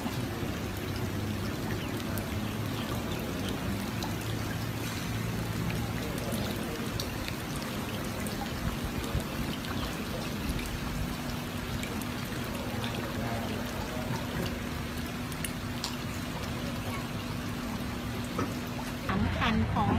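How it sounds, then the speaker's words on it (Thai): Floodwater rushes fast along a flooded street in Sakon Nakhon, Thailand, a steady broadband roar and splash of flowing water running continuously, with voices talking over it. "รถวิ่งไม่ได้เลยถนนนายวิไลเทคนิคโอ้น้ำไหลเชี่ยวด้วย"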